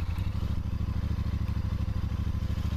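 A 2023 Royal Enfield Super Meteor 650 motorcycle engine running just after starting, with a close, loud, rapid rhythmic low-pitched thrum that stays steady the whole time, with no voices.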